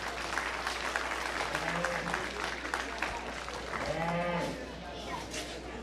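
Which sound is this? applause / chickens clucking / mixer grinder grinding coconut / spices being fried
applause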